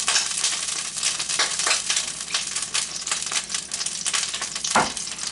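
Hot oil sizzles and crackles steadily in a pan while shrimp fried rice is being cooked, a dense, loud frying hiss with one sharper clatter near the end and no talking.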